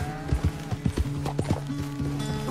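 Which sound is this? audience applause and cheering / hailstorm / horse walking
horse walking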